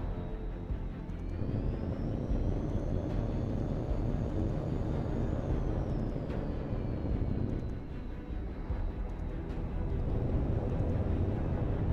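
Jet aircraft roaring steadily in the air combat game Hawx 2, a loud continuous whine with a rising and falling high tone, no talk.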